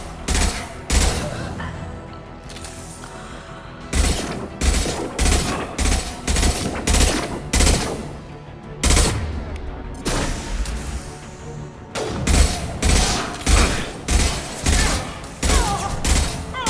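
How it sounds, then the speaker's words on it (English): Bursts of gunfire and heavy impact shots in the sci-fi shooter game Mass Effect 2, loud repeated volleys in quick rhythmic clusters separated by short pauses, close and dominant throughout. "Firing an impact shot!"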